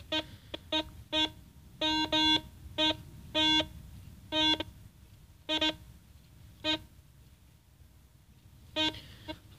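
A Solfernus v2.6 metal detector emits short single electronic beeps during a ground test, about a dozen clipped tones in irregular bursts over low background noise.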